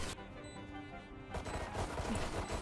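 Gunfire in the video game Valorant, a burst of rapid shots layered over game sounds, heard up close without speech.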